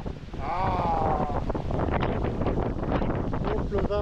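Strong wind buffets the microphone aboard a sailboat at sea as a squall arrives off the coast between Kourou, French Guiana, and Trinidad, a loud continuous roar with gusty surges while a voice speaks briefly over it.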